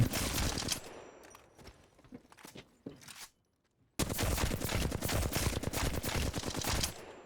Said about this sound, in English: You're going to practice this on either these targets right here and practice just shooting straight.